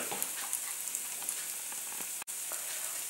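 Apple pancakes frying over medium heat in a pan, giving a steady, even sizzle with small crackles throughout and one brief dropout near the end.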